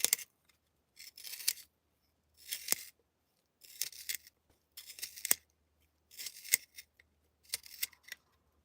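Scissors snip through paper poems, reducing them to shavings in seven distinct bursts of crisp cutting separated by short pauses, close and quiet with no talk.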